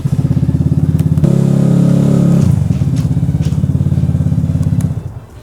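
A Vespa scooter is ridden in close by, its small engine puttering with a rapid pulsing beat, briefly revving louder before settling and cutting off at the end.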